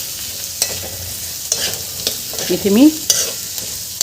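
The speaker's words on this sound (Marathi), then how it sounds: "छान परतवून घेतली आहे भाजी, मिक्स करून घेतली आहे" Pumpkin peel vegetable sautéed in a pan, with a spatula scraping and stirring in irregular strokes against soft frying, close and fairly loud; a brief voice is heard.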